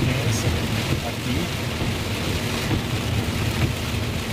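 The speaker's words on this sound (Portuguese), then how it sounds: "vocês podem observar que a chuva está bem intensa aqui" Heavy rain pours down in Divinópolis, a dense, steady roar of drops beating on surfaces close by, loud and unbroken throughout with no voices over it.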